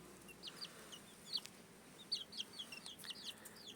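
Chickens cluck softly in a pen, short quiet calls coming in scattered bursts over a faint steady background hum.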